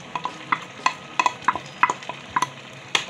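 Onion frying in a pot for beans and plantain porridge, stirred with repeated sharp scraping clicks and knocks of a spoon against the pot over a soft sizzle, close and irregular, with no talk.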